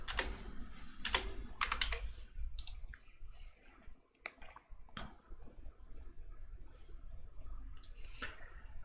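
Keys tapped on a computer keyboard while entering a password for a software install, a fast burst of sharp clicks followed by scattered single keystrokes, close and clear with no talking.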